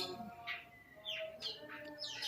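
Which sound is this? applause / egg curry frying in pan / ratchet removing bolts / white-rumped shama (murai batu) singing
white-rumped shama (murai batu) singing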